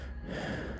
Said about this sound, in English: That is the sound of someone breathing into a microphone